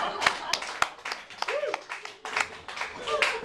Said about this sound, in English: Applause for rioting now.